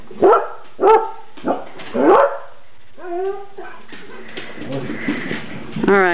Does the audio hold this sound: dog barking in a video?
yes